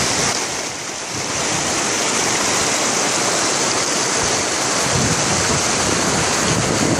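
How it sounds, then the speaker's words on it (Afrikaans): The waterfall at the Drakensberg Amphitheatre pours down beside a river in the mountains, giving a loud, steady roar of rushing water that holds without a break. "Aan die regterkant daar vloei die waterval."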